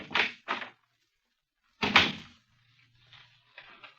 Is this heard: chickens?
no